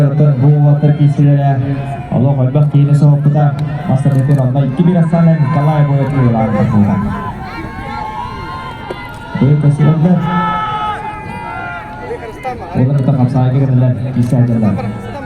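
A large crowd chants in rhythmic waves and cheers loudly at a wrestling bout at the Dygyn Games, with shouts and whoops rising between the chants.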